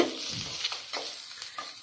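Onions sizzle in a hot pan while a spoon stirs them, with a few short scraping strokes over the steady crackle.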